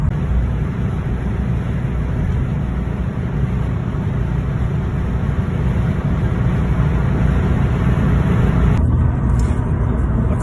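Steady broadband road and engine roar from a 1995 Porsche 911 Carrera driving at speed on the Autobahn, a continuous loud drone with tire and wind noise throughout and no talking.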